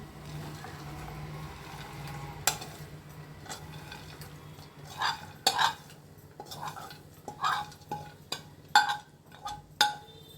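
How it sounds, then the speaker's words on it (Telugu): Fried dates and dry fruits are stirred together in a pan, giving a run of scraping and clinking strokes that start sparse and grow into louder, irregular bursts near the end, with no talk. "ఇట్లా కలిపేసుకోవాలండి"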